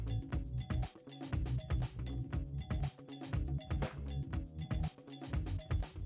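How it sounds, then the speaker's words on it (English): A screwdriver backs out small Phillips screws from an iPhone 4 dock connector, making rapid close ratcheting clicks in a steady rhythm, with no speech. "removing the two Phillips screws that are securing the dock port connection into our motherboard"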